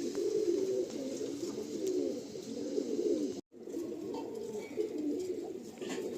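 Madrasi pigeons in a loft coo steadily as a continuous, moderately loud chorus, broken by one brief gap midway.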